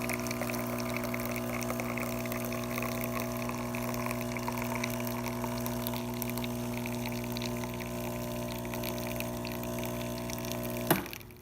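A serviced Gaggia espresso machine pumps a steady stream of water, a continuous pouring rush over a low motor hum that holds evenly for several seconds before cutting off with a brief click near the end.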